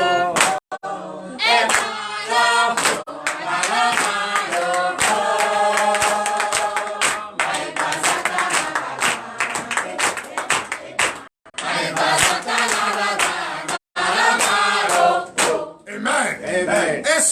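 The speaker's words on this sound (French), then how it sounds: "Donnez l'acclamation à Jésus." A church congregation at a Sunday teaching and worship service claps and acclaims loudly throughout, with voices singing or shouting along and a few brief pauses.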